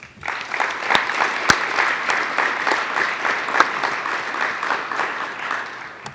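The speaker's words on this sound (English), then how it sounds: "Please join me in thanking them with a round of applause." An audience applauds at a high school National Honor Society induction ceremony, a dense, steady wash of many hands clapping that holds strong for about six seconds.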